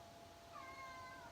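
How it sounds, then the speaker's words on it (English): A male house cat gives a drawn-out moaning meow after bringing in prey, a single wavering cry rising in the second half over a steady low room hum, fairly faint and close. "That's the cat. This is the noise. He makes this moaning noise whenever he brings in,"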